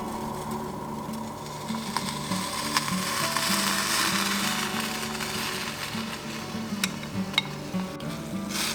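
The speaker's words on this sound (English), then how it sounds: "Now let's add in our mixed egg." Beaten egg goes into a boiling pot of broth with green scallions and is stirred, bringing a soft bubbling sizzle over a steady low hum, broken by occasional sharp clinks of a utensil against the pot.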